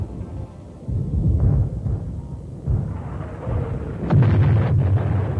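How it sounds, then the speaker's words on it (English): Mortar and artillery shells land on a base during a Vietnam War barrage, rolling into a continuous series of deep, heavy booms and rumbling blasts with no speech. "An intense barrage of mortar rounds hit the base."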